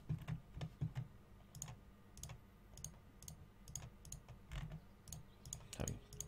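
Rapid mouse clicks from a player working through a grand strategy game, scattered in short irregular bursts and light ticks at close range, with a faint background hum throughout.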